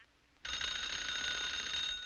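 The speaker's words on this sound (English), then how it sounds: "Would you please ring 31J at Elba? Oh, how are you, Grover? Fine, Miss Elsie. I'm ringing Amy for you." Telephone bell ringing on an old manual exchange party line, a bright sustained metallic ring that starts abruptly after a brief quiet and continues steadily, fairly loud and alone.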